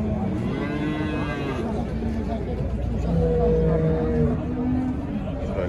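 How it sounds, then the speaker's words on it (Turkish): Cattle and water buffalo moo at a busy livestock market in Kastamonu, Turkey, several drawn-out low calls overlapping near the microphone over a steady murmur of crowd chatter and people talking. "Yine şurada bu hafta biraz manda fazla gelmiş. Şöyle mandalar var şurada."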